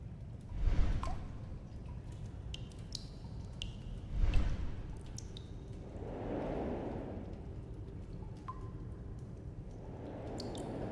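Water drips and trickles from containers lifted by a turning wheel in a puzzle game, soft and fairly distant, with a few louder splashes and a faint gurgling wash in between.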